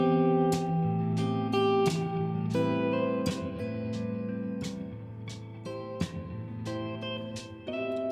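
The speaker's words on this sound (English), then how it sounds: "today I'll be teaching you about drop 2 7th chord inversions" A guitar plays a sequence of sustained drop 2 seventh chord inversions on the top four strings one after another, each strummed and left ringing, clear and close with no voice.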